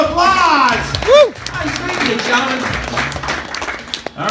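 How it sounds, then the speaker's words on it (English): An outdoor audience at a street magic show on Fremont Street in Las Vegas claps and cheers for volunteers, with a performer's voice talking over and around the applause. "Give the guys a round of applause!"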